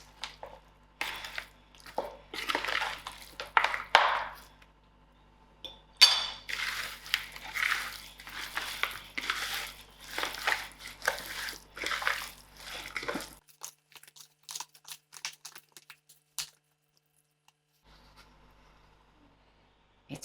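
Lamb chops being mixed by hand with olive oil and spices for a masala marinade in a bowl, giving soft irregular wet squelching and clinking strokes in bursts, then fading to near silence.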